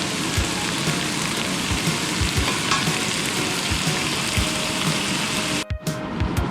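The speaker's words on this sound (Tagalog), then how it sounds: "so kumukulo na ang ating sauce" Steady crackling sizzle of sauce bubbling in a hot pan, continuous and close, with a brief clatter near the end.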